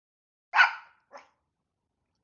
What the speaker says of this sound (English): I don't know if you can hear his bark or if the noise cancel.